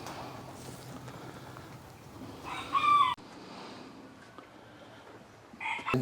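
Chickens and roosters call on a farm that also keeps Muscovy ducks, with a loud crow rising midway and another starting near the end over a low background murmur.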